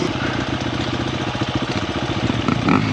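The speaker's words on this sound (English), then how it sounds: "Jordan got his bike started" A Honda XR100R dirt bike engine runs on a trail after a bump start, a close, loud, rapid putter that pulses steadily and rises briefly near the end.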